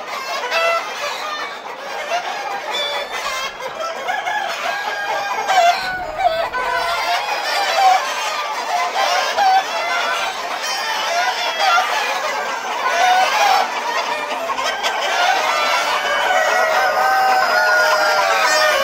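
A flock of Sonali classic super hybrid chickens clucking continuously close by, with roosters crowing through the cackling and faint background voices.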